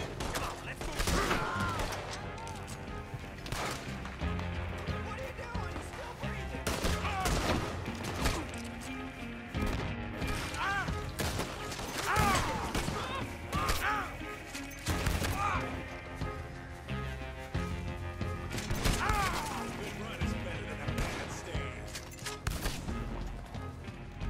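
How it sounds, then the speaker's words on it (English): Shotgun fire in Red Dead Redemption 2 during a moose hunt, with repeated loud blasts and crashing game sounds recurring across a busy, dense mix. "That shotgun sounds like it needs to be cleaned."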